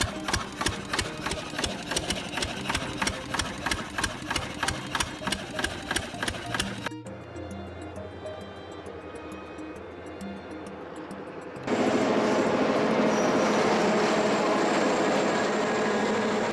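An EMD 567 V16 diesel engine, stripped of its outer shell, runs at full throttle with a rapid mechanical rhythmic clatter, then a smoother drone, and finally a loud, dense, steady roar close by.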